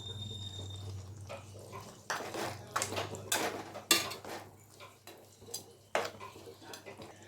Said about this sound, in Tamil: இப்போது இதில் தேங்காய் பால் சேர்த்துட்டு நல்லா கிளறிக்கோங்க.